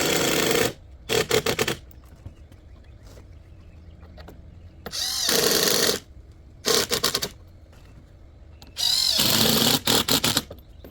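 A power drill driving surface mount screws into deck boards, several short high-pitched whirring bursts of varying length separated by quiet pauses, close and clear.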